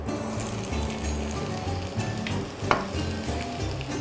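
Onions hitting hot olive oil in a pan for moussaka, a loud close sizzle with scraping and stirring, plus a brief sharp clatter partway through; low rumbling hum sits underneath, with no speech.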